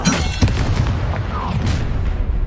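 A Confringo blasting spell explodes in the Hogwarts Legacy video game, a loud booming burst amid constant dense combat noise, with low rumbling blasts running throughout.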